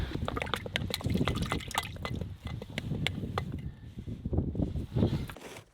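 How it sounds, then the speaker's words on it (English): Reindeer blood is ladled into a jug, giving close, quiet splashes, drips and pouring trickles in an irregular rhythm. "The blood is being ladled into a jug for making sausages later."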